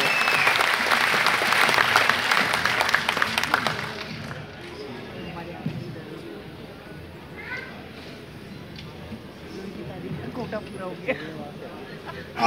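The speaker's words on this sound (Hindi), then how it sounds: "थोड़ी और बजाइए, जोरदार तालियों के साथ।" Loud, vigorous applause from a comedy show audience for the first few seconds, then the clapping drops away and someone speaks into a microphone with faint room murmur behind.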